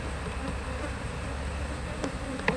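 Honeybees at an opened hive hum in a dense, steady buzz close by, with a faint tap or click near the end and no talking.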